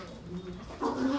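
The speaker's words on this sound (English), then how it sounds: "These dogs." Dogs whimper in a brief, close burst indoors, thin high whines that swell louder toward the end.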